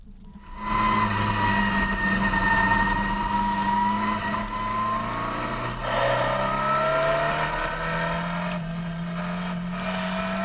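Heard from inside the cockpit, the engine of a NEMA Lite race car roars loudly and steadily through a race in New England. Its pitch rises and dips as the driver works the throttle through laps, and no voices are heard.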